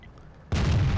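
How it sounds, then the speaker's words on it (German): A tank cannon shot in the World of Tanks game, aimed at an SU-122: quiet background, then one sudden loud, deep boom that rings on to the end. "erster Schuss ging in die Su-122 Vibuta, zweiter Schuss gleich hinterher, dritter Schuss ebenfalls"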